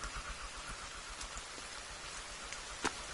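Rain falls steadily in the survival video game The Forest, a constant dense patter of drops on surfaces, even and fairly quiet, with no other sounds above it.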